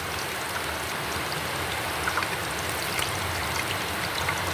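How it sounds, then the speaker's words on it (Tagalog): Steady rain falls outside, a dense even hiss of drops with occasional faint patters, moderately quiet and continuous with no voices. "Maulan po"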